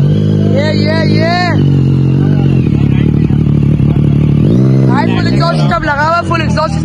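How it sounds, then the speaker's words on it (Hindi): Loud motorcycle with an altered full exhaust system at a wedding procession, its engine rising and falling in several strong revs amid crowd chatter and people talking nearby. "फुल एग्जॉस्ट सिस्टम आल्टर वाला"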